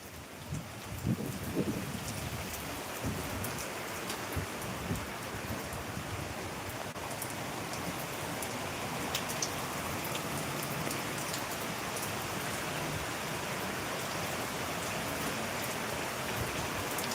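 Heavy downpour in Bayad during a storm, a dense, continuous roar of rain hitting surfaces at steady loudness, with occasional faint clicks and no voices.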